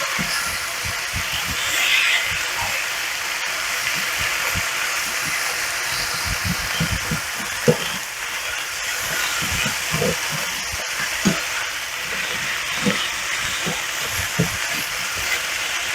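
Pork tenderloin sizzles in a pan with a continuous hiss, while soft irregular knocks and scrapes of stirring run through it at close range.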